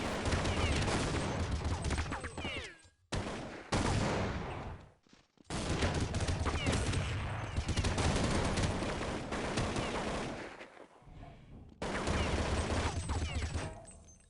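Dense gunfire from a Counter-Strike match featuring team NiP, rapid bursts of shots and game effects filling long stretches, loud and continuous, broken by a few brief silences.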